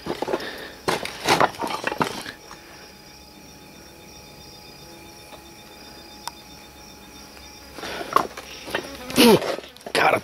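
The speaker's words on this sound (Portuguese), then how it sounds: "Cara, tem uma abelha vindo em mim aqui," A bee buzzes near someone outdoors, a faint steady drone in the middle stretch, framed by louder rustling and handling noises at the start and end.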